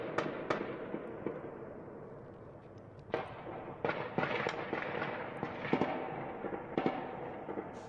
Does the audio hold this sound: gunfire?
yes